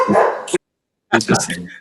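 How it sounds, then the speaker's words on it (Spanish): Dog barking in a home during a conversation, a short burst of barks up front, then a pause and more sharp sound under nearby talk; people are speaking throughout. "te están ladrando"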